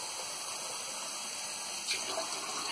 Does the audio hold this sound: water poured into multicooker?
yes